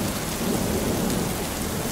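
Heavy rain falls outside in a dense, continuous hiss with a low rumbling undertone, steady and close throughout with no voices.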